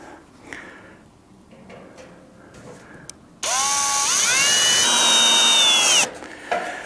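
A power drill drives screws into a tent stove pipe fitting, whining loudly with a rising pitch for about three seconds, after quieter handling clatter and small knocks.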